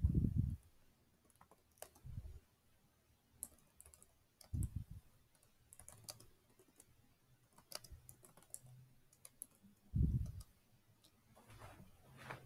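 Scattered keystrokes click on a computer keyboard while typing a question into a Scratch word scramble game, light irregular taps with a few louder thumps and quiet gaps between, no speech.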